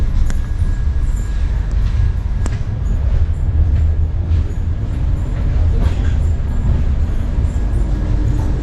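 Inside the moving Tejas Express premium train from Mumbai toward Goa, a constant low rumble of the carriage fills the space, with faint rattles and an occasional sharp click over the steady rolling noise.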